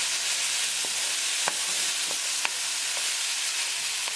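Chicken drumstick curry with tomatoes and potatoes cooks in a pan, giving a steady soft sizzle and hiss, with a few light clicks of a spoon as it is mixed.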